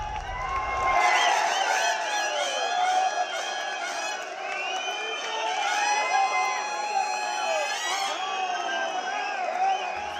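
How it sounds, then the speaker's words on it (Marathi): Farmers cheer and celebrate at the Yashwantrao Chavan Centre in Mumbai after electricity bills for farm pumps are waived, a dense crowd of shouts and whoops filling the room continuously with mixed voices throughout. "मुंबईतल्या यशवंतराव चव्हाण सेंटरमध्ये शेतकऱ्यांनी केलेला हा जल्लोष."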